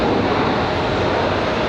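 An Icelandair airliner on the runway in gusty wind, heard as a steady, loud broadband roar of jet engine and wind, continuous and unbroken, with no voices.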